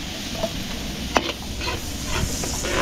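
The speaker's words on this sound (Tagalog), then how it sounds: "papupulayin ko lang yung bawang sibuyas" Garlic and onion sauté for chop suey, giving a steady, crackling sizzle close by, with a couple of quick utensil clinks and stirring scrapes over the hiss.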